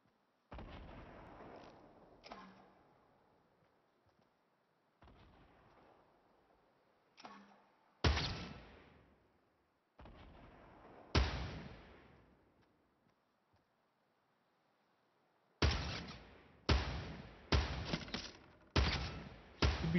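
Video game gunfire in a survival shooter: sharp, scattered shots and short volleys, some loud and some distant, broken up by quiet gaps.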